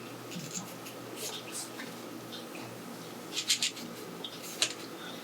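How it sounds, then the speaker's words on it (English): A pencil traces around a paper cutout held flat on a table, giving faint scratchy strokes and light rubbing, close by and quiet, with a few brighter scrapes near the end. "So the harder part is, of course, just holding this down and tracing it out."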